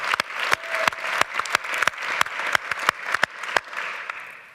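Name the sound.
audience applause for the Aspen Energy Environment team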